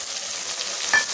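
Drained cut potatoes get stirred into wheat rava cooking with vegetables in a pan, giving a close, steady sizzle with soft scraping.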